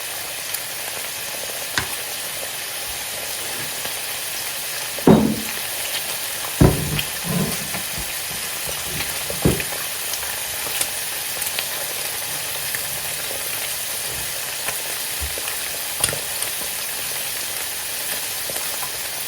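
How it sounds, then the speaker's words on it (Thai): An egg frying in a pan, left to cook until the yolk sets, giving a steady soft sizzle with a few sharp clicks and knocks of a utensil scattered through, close and without talk. "ปล่อยให้ไข่สุกเหลืองค่ะ"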